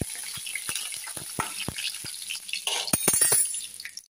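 Eggplant and potato fry in a pan for a fish curry, a steady sizzle broken by sharp utensil clinks and stirring scrapes that crowd together near the end, with no talk.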